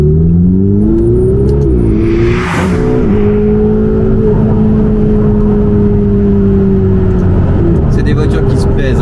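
A Ferrari 488 GTB engine revs and pulls hard under acceleration, a loud, rising tonal roar that dips briefly and then holds steady at high revs, close and continuous throughout.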